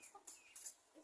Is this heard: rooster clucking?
yes